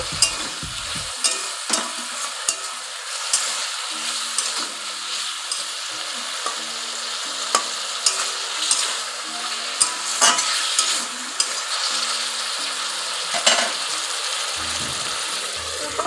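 Fish curry with vegetables, coriander powder and salt stir-fried in a pan, steady sizzling under repeated scraping spoon strokes that clack and rattle throughout, close and fairly loud.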